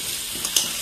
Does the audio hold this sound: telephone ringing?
no